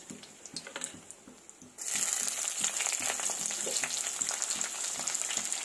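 Dried red chilies and onion dropped into hot oil after mustard seeds splutter: quiet crackling, then a sudden loud burst of steady sizzling that continues with small pops and stirring scrapes.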